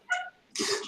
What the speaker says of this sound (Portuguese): Tem um cachorrinho.